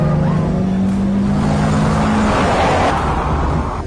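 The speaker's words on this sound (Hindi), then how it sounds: "एक गाड़ी उसका पीछा कर रही है" A car speeds up from behind and closes in fast in a movie chase, a loud continuous engine roar with a droning hum that swells and brightens as it draws near.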